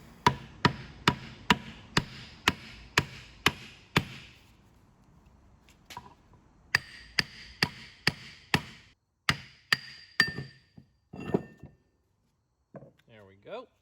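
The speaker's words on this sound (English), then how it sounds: "Got a brass hammer here." A brass hammer strikes a differential ring gear carrier during rear differential disassembly, giving a close, sharp series of ringing metallic blows in an even rhythm. A quiet pause follows, then another run of hits that trails off into scattered light taps.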